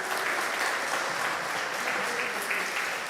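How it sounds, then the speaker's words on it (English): Steady applause from a church congregation for participants at a Christmas pageant service, a dense continuous wash of many hands clapping at even loudness throughout. "Let's give them a round of applause."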